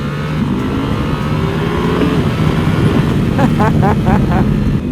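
A 2023 Ducati Panigale V4 sport bike roars under full throttle, a loud rising engine howl that climbs through the revs, with voices talking over it.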